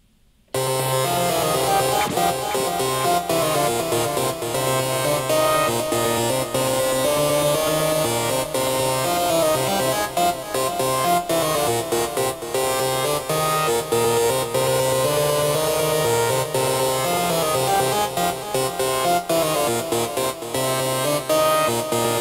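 A hypnotic techno synth patch with a delay effect plays as a dense, continuous tone with repeating echoes, loud and steady throughout after a brief silent start, with no voices.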